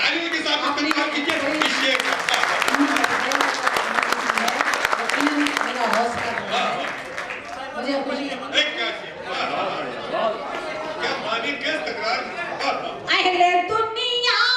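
Audience at a mushaira poetry event applauding in a long, dense burst of clapping, with talk and some chuckling mixed in as the applause thins toward the end.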